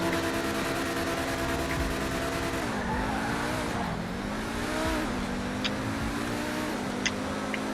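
Pegassi Tempesta sports car in GTA Online launching hard, a loud continuous engine roar that climbs through several revving gear shifts with brief tire squeals, close and steady with no talk.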